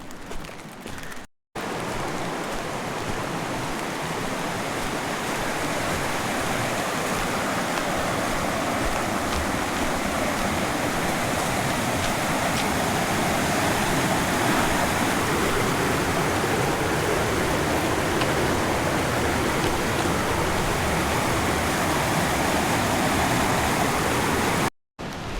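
Lick Creek in Kentucky rushes steadily, a broad, continuous wash of flowing water that stays loud and even for the whole stretch, with no voices over it.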